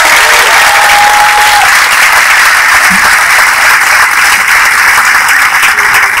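Loud, steady applause from a large audience at a graduation day for IHE Delft Erasmus Mundus joint programmes, a dense unbroken patter of clapping that fills the whole stretch.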